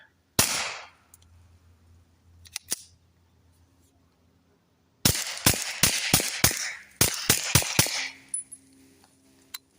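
Sharp, muffled pops from a rifle with an AAC Element 3 suppressor fired into dirt, first one or two spaced apart, then a rapid string of about eight shots, each with a brief thud.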